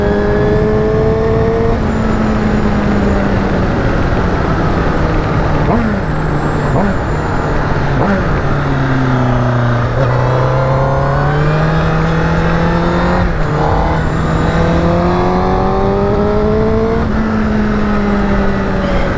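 A 2019 Honda CBR1000RR Fireblade motorcycle engine pulls hard under acceleration, its tone climbing steadily through rising sweeps with brief dips at gear changes, loud and close with constant wind rush.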